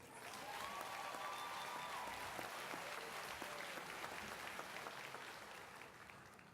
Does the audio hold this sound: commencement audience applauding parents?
yes